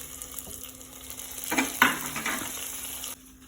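Steady sizzling of onions frying in a pan, with a brief louder burst of stirring and scraping midway before the sizzle settles again.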